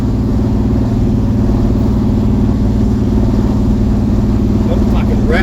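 A Chev 383 car engine pulling hard under acceleration on a test drive, a loud, steady low rumbling drone heard from inside the car throughout.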